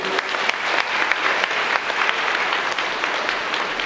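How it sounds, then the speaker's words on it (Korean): Wedding guests at the main ceremony applaud the newly declared couple with a loud, dense, continuous round of clapping that holds steady throughout. "다시 한번 축하의 박수 보내주십시오"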